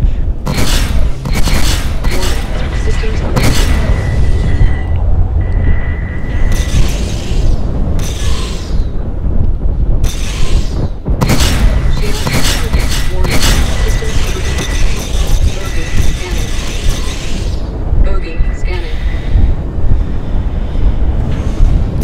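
Six neutron cannons on a Super Hornet fighter in the space game Star Citizen fire in repeated loud bursts over a steady roaring engine and ambient wash; each volley is harsh and sustained, and bursts recur through the stretch.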